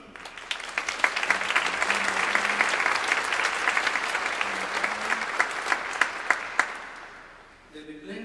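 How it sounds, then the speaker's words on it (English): An audience at a children's school music festival concert applauds the students' families, with dense sustained clapping that fades near the end as faint voices emerge. "A big applause for them as well."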